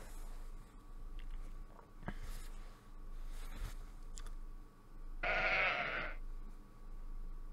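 A single sheep bleats loudly for about a second in a math puzzle video game, standing out against quiet background music and low hum.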